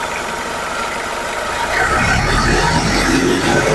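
A car engine idles steadily, then its low rumble swells and grows louder as it is revved, continuing at a raised, rough roar.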